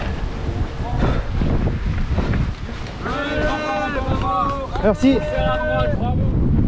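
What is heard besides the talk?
strong wind blowing during a coastal trail run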